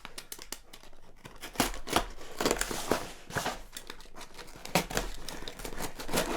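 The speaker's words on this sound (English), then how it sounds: "We'll open the little box first. Keycaps." A small box of keycaps for a new Model F keyboard is opened, giving close crinkling, tearing and scraping of the packaging in uneven bursts, fairly quiet with no talk.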